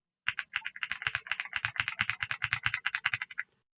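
Rapid clattery typing on a Redragon K719 mechanical keyboard fitted with its original switches and keycaps, a quick run of about two dozen bright, close keystrokes that stops abruptly.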